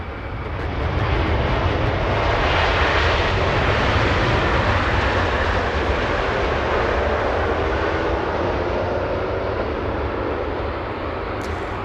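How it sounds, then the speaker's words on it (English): A Turkish Airlines Boeing 777 arriving at Los Angeles International Airport, with a loud, steady broadband jet roar that holds for the whole stretch and eases only slightly near the end, with no voices. "777 Turkish Niner coming in and arriving in front of LA Flights"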